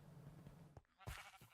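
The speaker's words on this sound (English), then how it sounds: "Okay, I hear sheep, which is a good sign." Sheep bleating in Minecraft: two short nasal bleats, the second louder and nearer, over a low steady game hum with no talk.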